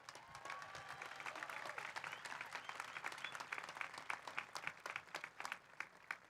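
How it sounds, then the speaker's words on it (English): A crowd at a high school graduation ceremony claps for the graduating class, with many crisp distinct hand claps forming lively, sustained applause that grows more uneven and spiky toward the end. "Clap it up for these guys."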